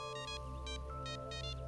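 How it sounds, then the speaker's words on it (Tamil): A phone rings with short repeated electronic chirps in quick bursts over a steady tonal hum, fairly quiet and without talk. "எனக்கு ஃபோன் வருது"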